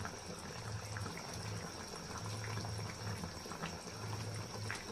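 Bottle gourd and snakehead fish curry simmers uncovered on a stove, a quiet, steady bubbling with gentle watery gurgles and no voices.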